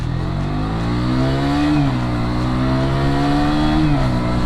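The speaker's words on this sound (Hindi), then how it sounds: "So it's 125cc single cylinder liquid cooled engine, produces 15 HP power and 14 Nm torque." A 2022 KTM RC125 with a 125cc liquid-cooled single-cylinder engine revs steadily up and down, its loud, close buzzing note rising and falling in pitch, with no talking.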